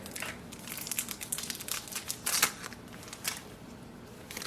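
Canon photo paper packaging is opened by hand, giving a close, irregular run of crinkling and crackling plastic and paper, with bursts and short pauses, quiet and without talk.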